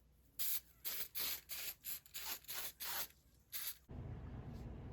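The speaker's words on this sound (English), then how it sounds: "take some Super 77 3M adhesive" Short hissing bursts of 3M Super 77 aerosol spray adhesive, about nine quick puffs in an uneven rhythm, close and fairly loud, followed by a steady lower hiss with no talking.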